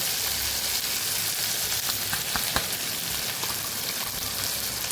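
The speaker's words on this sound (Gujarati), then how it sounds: "મસાલો એકદમ આપણે સાતળી લેવાનો છે." A ground spice paste sautés in a pan for a Kathiawadi drumstick gravy, giving a dense, even sizzle close up with a few soft clicks from the utensil.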